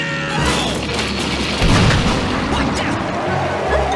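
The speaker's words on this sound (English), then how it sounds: "Load the cannons!" A cartoon cannon fires during a Battle of Yorktown scene, one deep boom in the middle of a busy, noisy battle soundtrack with voices over it.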